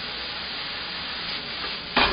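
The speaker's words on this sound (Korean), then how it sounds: "부추 하얀 부분 먼저 넣어서 살짝 볶으시고 파란 부분 넣으시면서 나머지 양념 넣어주세요" Chives, white parts first and then green, stir-fried in a frying pan with seasoning give off a steady close sizzle, with a brief louder burst of stirring near the end.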